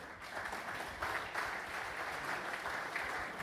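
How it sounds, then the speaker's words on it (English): An audience at a mining club luncheon gives a speaker a round of applause: soft, distant, continuous clapping with a few swells. "Could we please give him a warm round of applause?"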